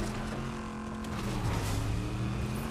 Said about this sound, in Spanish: ¿Vas a subir con el coche?